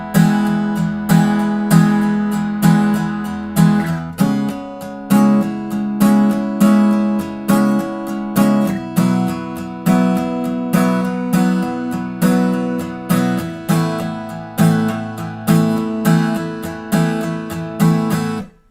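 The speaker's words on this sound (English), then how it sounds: "I like to strum all the strings and it should sound something like this." Acoustic guitar strummed across all strings in the intro pattern of a song, with steady rhythmic down-and-up strokes and ringing chords that change every few beats, played close and alone for nearly twenty seconds.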